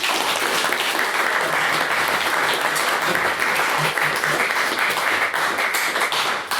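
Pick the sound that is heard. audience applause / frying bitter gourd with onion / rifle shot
audience applause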